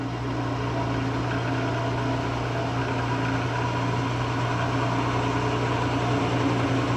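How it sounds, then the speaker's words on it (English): A wood lathe turns a small lidded resin box at about 1200 RPM, a steady continuous hum and whir with no pauses, close and fairly loud. "All right, so we got it mounted on the lathe. Start turning."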